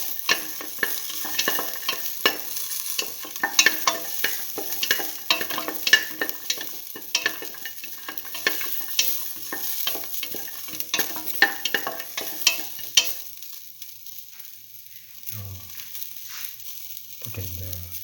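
Shallots frying in a pan give a close, busy sizzle with sharp crackles and stirring scrapes, then the sound thins out near the end, with no talking.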